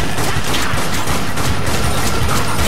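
Dense, loud gunfire rips through zombie hordes in Dead Nation, a continuous rattling wall of shots with no pause across the whole stretch.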